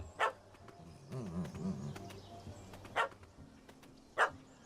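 A puppy barks in The Witcher 3 video game, three sharp separate yips spaced over a few seconds, fairly faint, with a low tonal creature-like sound between them.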